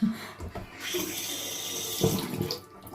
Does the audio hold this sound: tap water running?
yes